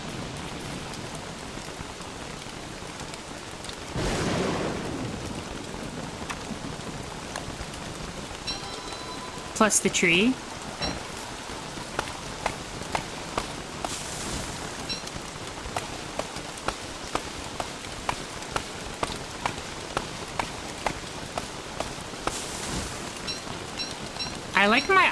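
Steady rain patters in the Don't Starve survival game, a continuous close hiss with scattered droplet ticks and a faint distant rumble, while a voice speaks briefly.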